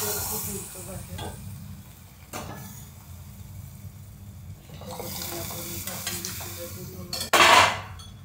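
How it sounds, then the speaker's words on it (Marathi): Cooked toor dal tipped into a hot tempering in a pan, with a steady low sizzle and stirring, then a louder hiss near the end as it hits the oil. "आता हे ह्या फोडणीमध्ये टाकते मी."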